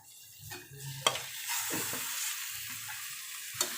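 Chicken liver added to a sizzling Malvani masala mixture in a pan, a continuous close frying hiss with a couple of sharp utensil knocks as it is stirred.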